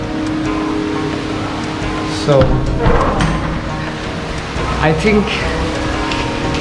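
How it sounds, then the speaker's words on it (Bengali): Heavy rain falls as a steady, loud wash of noise throughout, with a person talking over it in short bursts. "প্রচুর বৃষ্টি হচ্ছে"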